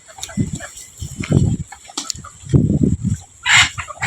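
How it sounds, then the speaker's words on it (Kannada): A rooster clucks close by in short, throaty bursts, several clusters spaced irregularly with brief pauses between them. "ಇದೊಂದೇ ಹುಂಜ ನೋಡ್ರಿ ಮನೆಗೆ ಉಳಿದು"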